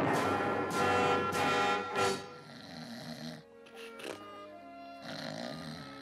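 A cartoon Smurf snores loudly in a French Smurfs episode, with long rasping snore breaths repeating in a slow rhythm, then quieter, softer breathing follows.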